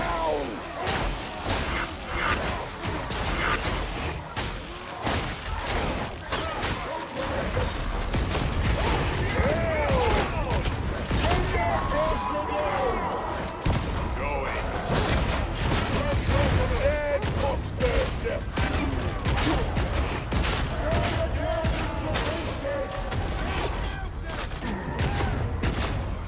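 Dense gunfire in a video game, rapid bursts and sustained volleys of shots, loud and continuous, with people talking over the shooting.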